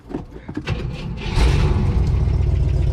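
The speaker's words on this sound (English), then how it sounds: "Let's go ahead and start it up." A 1967 Oldsmobile Toronado Deluxe engine cranks briefly after some mechanical clatter, then catches and settles into a steady low rumble.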